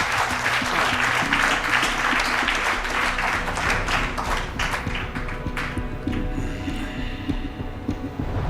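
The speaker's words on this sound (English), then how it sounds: "he deserves a bigger round of applause" Audience at a talent show audition bursts into loud, sustained applause with dense clapping and scattered whoops, which gradually thins and fades toward the end.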